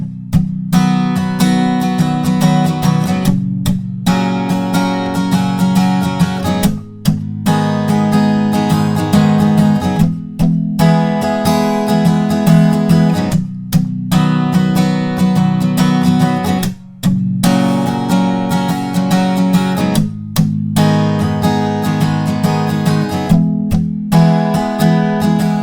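Acoustic guitar strums the chords of the second verse of a song in a steady, bouncy rhythm, loud and close, with brief pauses between phrases and no voice.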